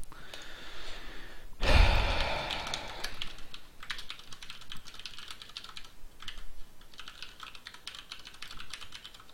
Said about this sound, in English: let's try typing in something different